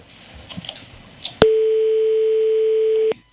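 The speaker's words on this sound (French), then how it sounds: "Ah, ça sonne." A single long telephone tone sounds during a call, a loud, steady electronic beep lasting nearly two seconds after some faint background noise and a brief click.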